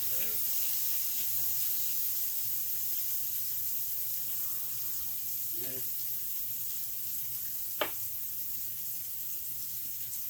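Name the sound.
water added to pan with cooking steak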